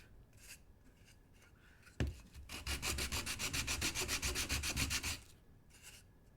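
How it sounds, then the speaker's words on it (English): Sandpaper rubs against a 1:12 scale miniature wooden Nicholson workbench in steady, rapid back-and-forth strokes, close and fairly loud for about three seconds after a sharp start, then stopping. "we're going to move on to finish sanding here"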